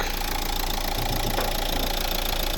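A 2012 Renault Scenic III's 1.5 dCi K9K diesel engine idles steadily close by, a continuous rough rumble with a faint rhythmic knock and no voices.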